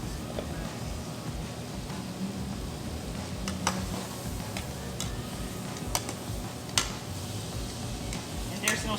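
Watermelon rind and leeks cooking in a pan with no seasoning, a steady soft sizzle running throughout, broken by a few sharp clinks of a utensil against the pan.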